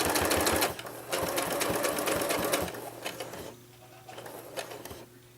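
Sewing machine stitching a potholder, rapid rhythmic mechanical chatter in bursts that stop and restart, running loudly at first, then quieter and more intermittent toward the end.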